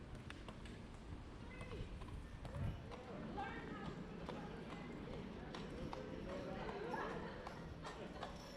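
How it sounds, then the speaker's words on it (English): Horse hooves clip-clop along Royal Street in New Orleans' French Quarter, a steady, fairly quiet rhythm of hoof strikes with faint street voices around it. "Hey there, horse."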